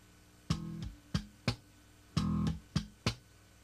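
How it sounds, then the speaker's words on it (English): Bass guitar slap technique played slowly: a thumb slap, a left-hand click on the strings and a pluck, repeated as two distinct three-note groups, close and clean with no talking. "the basic motion is thumb, bring your left hand down on the strings, thumb click, and a pluck."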